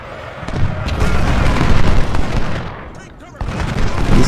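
Gunfire rolls across an American Civil War battle in the strategy game Ultimate General Confederate, loud and dense with booming volleys, briefly easing before rising again, under a voice talking.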